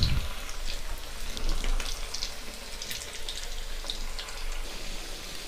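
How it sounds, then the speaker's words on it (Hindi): Potatoes for dum aloo frying in hot oil in a pan, a steady close sizzle with bright crackling pops throughout. "हमें इन्हें गोल्डन ब्राउन होने तक फ्राई करना है।"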